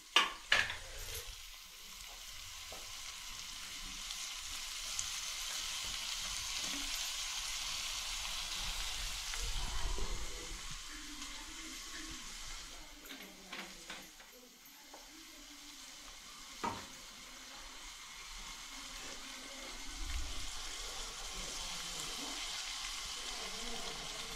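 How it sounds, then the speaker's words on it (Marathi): Chopped onion sizzles and fries steadily in hot oil in a pan while being cooked for a dry clam curry, with occasional stirring scrapes and knocks over a continuous crackling hiss. "कांदा थोडा भाजू दे."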